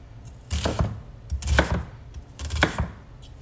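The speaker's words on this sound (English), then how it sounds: "Our onion, we're just gonna cut into some strips" A knife slices an onion into strips on a cutting board, three distinct bursts of firm chopping strokes with short pauses between, close and clear with no talking.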